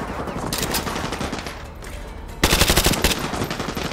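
Automatic gunfire in the video game Call of Duty Modern Warfare 2 Remastered, with rapid bursts of machine-gun shots and a louder, denser volley partway through.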